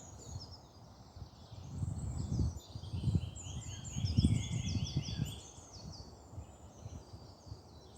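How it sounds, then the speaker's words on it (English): Birds sing and chirp steadily in the background of a bluebell wood, with bright high calls layered over soft low rustling and faint movement nearby. "Grateful for the birdsong"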